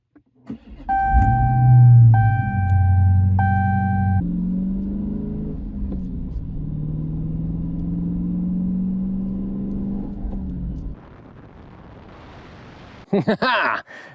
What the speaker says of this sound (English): Push clutch pedal and push button to start.